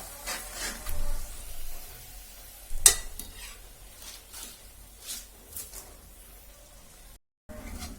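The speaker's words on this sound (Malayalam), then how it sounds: "നമ്മൾ ശരിക്കും ഇളക്കിയെടുക്കാം കേട്ടോ" Eggs sizzling in a hot pan for green peas masala while being stirred, soft crackle under intermittent scraping strokes of a spoon against the pan, with one sharper clink and a brief dropout near the end.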